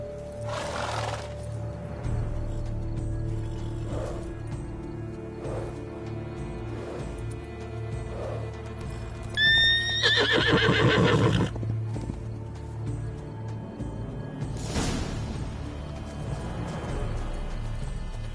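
A horse in The Witcher 3 whinnies loudly and close over soft clip-clopping hooves, with other ambient game sounds and no talk.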